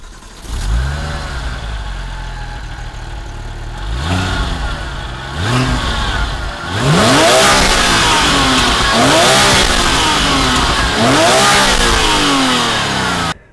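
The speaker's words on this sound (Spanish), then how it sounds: "Llevan este motor, el motor Mezger, que llamaban, en honor a Hans Mezger" Porsche 911 GT3 with the Mezger boxer engine revving hard in several rising and falling sweeps, first short blips, then longer sustained high-rev pulls, loud and close.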